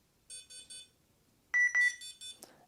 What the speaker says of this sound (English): The alarm has gone off after about 15 seconds.